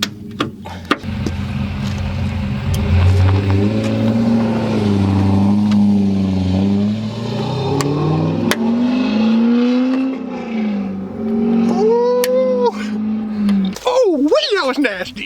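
A loud, lumpy cammed V8 Corvette engine with aftermarket exhaust idles and revs repeatedly, its pitch rising and falling in throaty bursts, with a voice briefly heard near the end.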